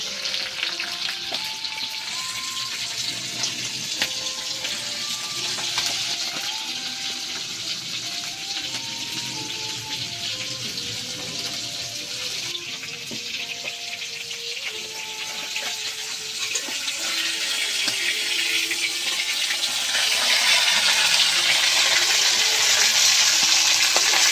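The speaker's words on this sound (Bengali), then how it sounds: "বাকি মাছগুলো আমি এইভাবেই লাল লাল করে ভেজে নেব" Rohu fish pieces sizzle in hot oil, a loud, constant crackling hiss that swells stronger toward the end, with faint clinks of a utensil underneath.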